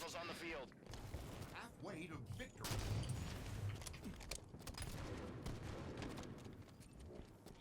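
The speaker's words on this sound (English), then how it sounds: "I will put some bullets in these guys." Dense gunfire and explosions from the video game Halo 5, including sniper rifle shots, rattle continuously beneath someone talking over the game action.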